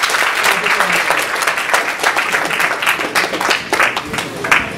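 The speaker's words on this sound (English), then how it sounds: "can we give him another round of applause?" A full round of applause from an audience at a leadership presentation, loud and sustained many-handed clapping with a few sharper claps standing out.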